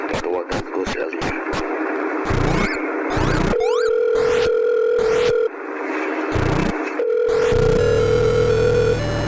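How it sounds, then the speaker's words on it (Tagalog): A telephone call being placed: rapid beeps and clicks, then steady sustained tones that break and resume, close and loud, with a brief noisy burst at the end. "tatawagan ko si Alina."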